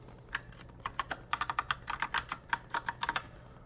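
Password being typed on a computer keyboard during network device setup: a quick, irregular run of close, crisp key clicks, about two dozen taps over a few seconds with short pauses, no voices.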